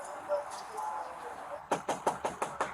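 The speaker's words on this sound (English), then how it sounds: "After a full 3 minutes of knocking" Police knock hard on a door in a rapid series of about seven sharp, close raps, after quieter background murmur and faint talk.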